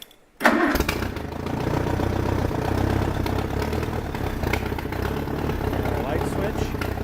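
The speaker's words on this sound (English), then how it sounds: "Turn our ignition." An Allis-Chalmers tractor engine cranks and catches after a brief silence, then runs at a steady, loud, rough idle close by for the rest of the clip.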